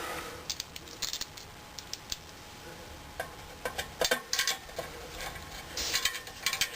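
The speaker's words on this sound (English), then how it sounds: "I'll put the metal cap back on with its two screws." A metal cap is screwed back onto a small ball mill with its two screws, giving close, light metallic clicks and ratcheting scrapes in uneven clusters.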